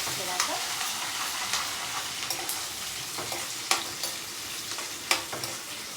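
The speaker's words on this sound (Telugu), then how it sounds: "ఫ్రై చేసుకోవాలి మంచిగా కొద్దిగా మెత్తపడితే సరిపోతుంది ఆనియన్స్" Chopped onions frying in a pan for a gongura and broad bean curry, a steady soft sizzle with scattered sharp crackles and pops, close and alone with no talk.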